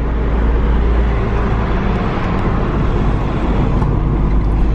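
Steady, loud interior road rumble from a car on the road to Vermosh in Albania, a continuous low droning ride noise with tire and engine hum throughout and no talking.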